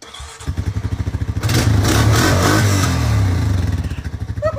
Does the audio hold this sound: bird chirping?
no